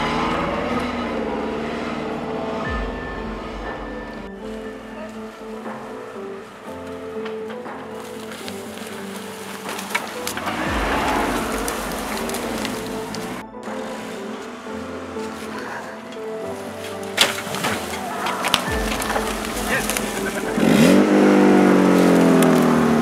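Car in an offroad and taxi video game pulling away from a standstill and accelerating, engine tone rising steadily and revving harder toward the end, with game music or ambience running underneath.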